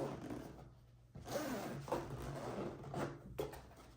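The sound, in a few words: zipper opening GoPro Hero 11 Black case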